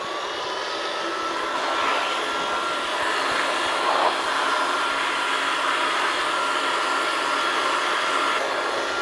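An air blower pushes cool air to dry the cleaned front cover and outer casing of a Samsung fixed-speed AR10KCFHGWK wall air conditioner, a steady loud rushing hiss that holds without pause.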